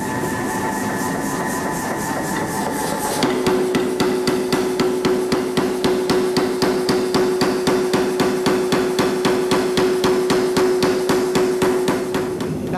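A power hammer forges hot steel for a garden gate, pounding in a fast, steady train of loud metallic blows that runs continuously after a brief lower mechanical hum, with no talking.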